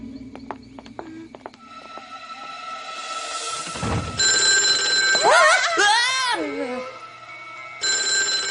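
A cartoon telephone bell rings in a few sharp bursts near the start, followed by whooshing and warbling spooky sound effects in a Halloween episode, with no talk over the ringing.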